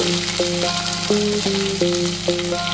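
Curry leaves fry in hot oil with a loud, continuous crackling sizzle, while steady tonal hums shift pitch in the background throughout.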